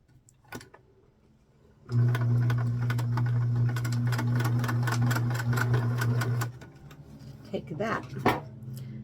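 A sewing machine runs a straight stitch on a dress made with an applied collar, a steady loud mechanical whir with rapid needle clatter lasting several seconds, then stopping; light handling noises follow and brief talk precedes it.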